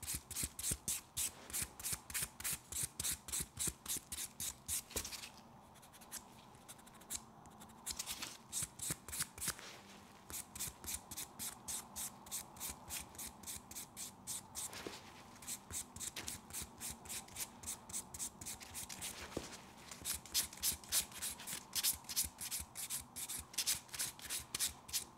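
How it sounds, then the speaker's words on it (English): Toenails buffed with the 180-grit side of a nail buffer, a soft, quick rhythmic scratching of repeated strokes, close and quiet, with a brief pause partway through. "Using my nail buffer, I use the 180 grit side and buff the nails"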